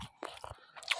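Someone chewing fried potato aloo bhaji, a few soft close crunchy bites and mouth sounds, quiet and brief, with faint whispered breath between.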